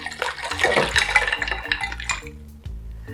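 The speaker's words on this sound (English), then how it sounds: "I'm going to pour some extra ice water on top." Ice water is poured over a homemade chocolate ice cream base in a kitchen, a splashing liquid pour mixed with clinking ice and dishes, then a few scattered knocks.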